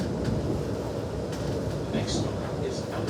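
A Melbourne tram ride, with a steady rumble of the tram running along its rails and a few faint squeals over the noise, heard from on board.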